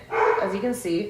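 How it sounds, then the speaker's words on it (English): A dog barks several times in quick succession nearby, overlapping a person talking. "Excuse my dog barking."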